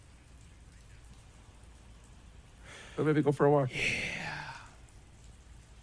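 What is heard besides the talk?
rain falling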